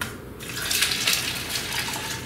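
Plain store-bought seltzer water pours into a container at close range, a steady fizzing splash that swells and hisses for a couple of seconds with no talk.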